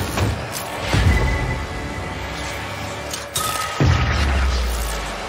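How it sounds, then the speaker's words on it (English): Deep bass explosions in the animated series Arcane hit as heavy booming impacts, several loud low thuds with crashing debris and clinks spread across the clip, with no talking. "They always have those deep bass explosions with these things"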